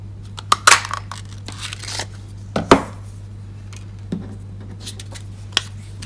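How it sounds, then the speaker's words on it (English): Several sharp, crisp clicks and snips as paper is punched with a 1 3/8 inch scallop punch during card making, scattered irregularly over a steady low hum, with no talking. "we can punch that one out with the 1 3/8 inch scallop punch"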